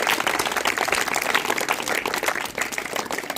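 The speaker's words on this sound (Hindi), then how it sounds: "प्रेम शंकर जी सर की जोरदार तालियां।" A crowd at a school farewell ceremony gives loud, sustained applause for a teacher, Prem Shankar, with many hands clapping in a dense, unbroken wash that stays strong throughout.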